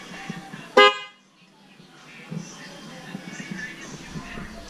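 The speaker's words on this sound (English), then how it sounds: "Some of the horns. These are the kind that are on the GTR, I think, but they're red." A red car horn of the kind fitted to a GTR is tested in an auto parts store, sounding one short, loud blast. Shop chatter and people talking continue around it.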